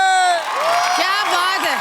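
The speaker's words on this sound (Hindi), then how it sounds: "एक बार जोरदार तालियां हो जाए तुषार भाई और अर्जुन भाई के लिए" A studio audience on a Hindi comedy TV show cheers loudly with rising and falling whoops and shouts packed close together, with possible faint clapping underneath.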